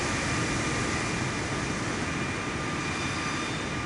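Steady, even airplane engine drone from Microsoft Flight Simulator 2024 during a flight over mountains, continuous and loud with no talk.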